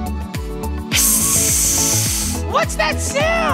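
Hands rubbed together imitate a snake's hiss, a broad steady hiss lasting a couple of seconds over upbeat children's dance music, followed by playful vocal sounds.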